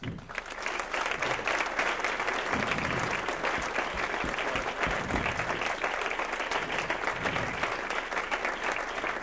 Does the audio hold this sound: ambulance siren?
no